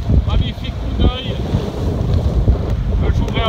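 Strong wind around Force 5 roars and buffets the microphone at sea on a sailing boat at dawn, with water rushing and splashing against the hull; no clear speech.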